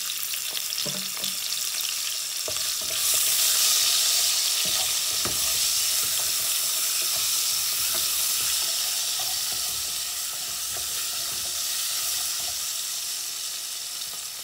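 Salt and onion frying in a pan while cooking vegetable porridge with beans, a steady hiss and sizzle with stirring scrapes throughout, close and fairly loud, with no talking.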